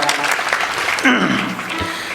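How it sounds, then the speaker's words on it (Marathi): Brief burst of applause from an audience welcoming guests and media at a religious discourse, loud clapping that fades as a voice briefly cuts in. "सर्व मीडियावाल्यांचं सुद्धा टाळ्या वाजून एकदा स्वागत करा"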